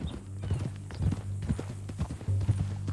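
Horse hooves clip-clop at a steady walking rhythm in the video game Red Dead Redemption 2, close and clear over a low ambient drone.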